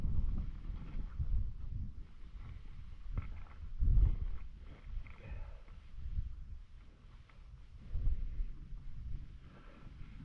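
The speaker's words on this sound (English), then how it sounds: "that rain's coming and it's already windy" Wind gusts buffet the microphone in low, rumbling surges that rise and fall throughout, with no talking, at a paragliding launch before rain.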